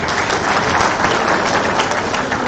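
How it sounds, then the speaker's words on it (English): Applause from a medical conference audience greeting an anaesthetist speaker, a steady, even wash of many hands clapping throughout, with no speech. "A round of applause for Dr. Javed."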